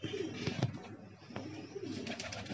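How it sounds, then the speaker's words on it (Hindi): Pigeons perched nearby give soft, low, throaty coos, faint and repeated over a hushed outdoor background. "तो ये एक कबूतर यहाँ बैठ गया, दो कबूतर और आ रहे हैं"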